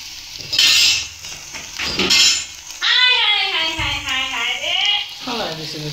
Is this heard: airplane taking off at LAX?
no